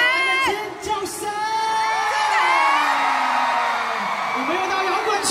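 Fans at a pop concert shriek and cheer in long, rising high-pitched cries that build and hold, loud and close, with some speech mixed in.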